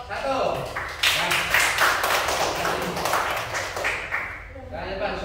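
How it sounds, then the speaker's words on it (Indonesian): Students in an economics classroom give a brief burst of clapping for a group, with the sound swelling in the middle and fading out under a teacher's ongoing talk. "Tepuk tangan kelompok 1."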